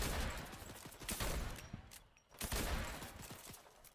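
Gunshots in the video game Fortnite, rapid loud volleys of shots in two bursts separated by a short lull, close and alone without talk.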